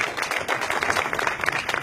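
A church congregation claps together in a dense, steady burst of applause that fills the room at close range, with no voices standing out.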